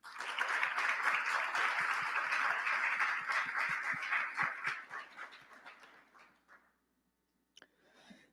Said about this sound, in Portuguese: Salva de palmas, Jean-Jacques de Groot.